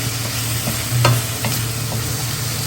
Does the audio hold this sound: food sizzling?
yes